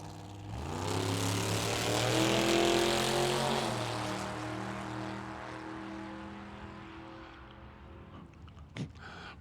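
Drag racing cars, an 1987 Chevy S10 and a Corvette, roar down the strip in a loud sustained engine drone that swells and slowly fades, with a brief sharp sound near the end.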